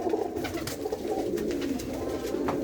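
Soft, low pigeon cooing runs steadily throughout, several birds murmuring together at close range inside an old fort, with no talking.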